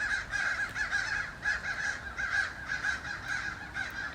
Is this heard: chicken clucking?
no